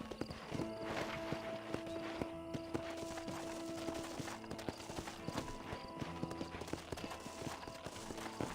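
Horse hooves clip-clopping in the game Red Dead Redemption, a steady walking rhythm of hoofbeats with an occasional whinny, set over a constant game soundscape with no talking.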